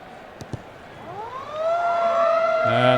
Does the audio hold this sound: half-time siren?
yes